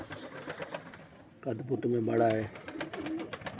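Pigeons in Karachi, Pakistan give a low, throaty coo about midway, close and fairly loud, with softer cooing after it and someone speaking over the scene.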